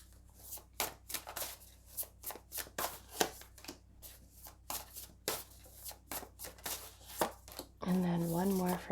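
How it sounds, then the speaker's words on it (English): Tarot cards shuffled and pulled by hand, a rapid run of crisp riffling slaps and flicks repeating over several seconds, close and clear, with a voice starting to speak at the end. "We're going to pull 3 cards from this one here."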